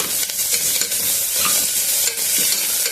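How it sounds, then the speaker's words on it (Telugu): Curry leaves, mint, coriander and ginger-garlic paste frying in oil for coconut milk rice, a loud steady sizzle broken by repeated scraping strokes of a spoon stirring the pan, close and without voices. "కరివేపాకు, కొంచెం పుదీనా, కొంచెము కొత్తిమీర, కొంచెం అల్లం వెల్లుల్లి పచ్చిన వాసన పోయేంత వరకు వేయించుకున్నాము"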